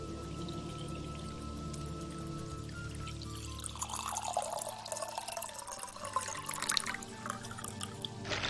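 Water pouring in the game Morrowind, a soft steady trickle that swells into a fuller, louder splashing pour midway through, with no talking.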